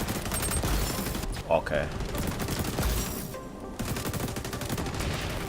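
Rapid M4A1 automatic gunfire in the video game XDefiant, dense sustained bursts with a brief pause midway, loud and close, with a voice speaking briefly over it.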